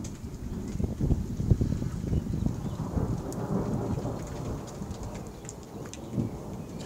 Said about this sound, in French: Écoutez bien les bruits d'éclairs.